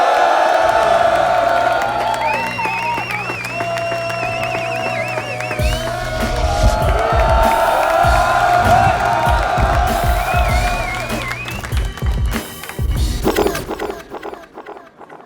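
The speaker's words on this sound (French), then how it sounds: "Je veux qu'on fasse un tonnerre d'applaudissements, un maximum de bruit pour les MC" A loud crowd at a Rap Contenders battle roars, whoops and cheers for an MC, with shouts and applause rising in bursts before fading at the end.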